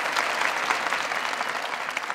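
Studio audience applause on a comedy talk show, dense and steady clapping from a crowd throughout, fairly loud and close with no talk over it.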